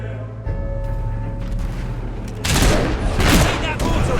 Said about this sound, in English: Take that mortar out. Really starting to annoy me. We're taking fire!